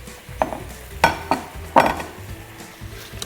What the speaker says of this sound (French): J'ai mes clémentines qui sont en train de caraméliser.